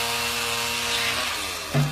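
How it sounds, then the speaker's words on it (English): Giant chainsaw cutting tree limbs away from a roadside neon motel cabin sign on Route 66, its engine droning loud and steady throughout, then bogging briefly as the chain bites near the end. "I'm up there on a ladder on top of a skid steer with a giant chainsaw, cutting the limbs off of the neon sign."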